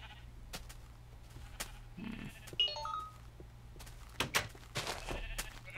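Sheep in a Minecraft modpack game bleating in short synthetic calls, several separate bleats scattered over a quiet background hum, with a few sharp clicks between them.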